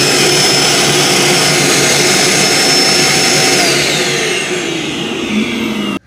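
Roomba j7+ robot vacuum dock auto-emptying, a very loud, close, jet-like suction roar with a high whine that shifts in pitch as it runs, then cuts off abruptly at the end.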